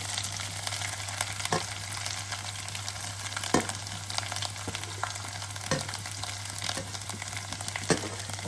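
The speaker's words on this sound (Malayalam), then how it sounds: "ഇനി നമുക്ക് തേങ്ങാക്കൊത്ത് വറുക്കാം" Coconut pieces frying in hot oil for a Kerala ginger curry: a steady, close sizzle with occasional sharp pops and stirring clicks, continuous and without talk.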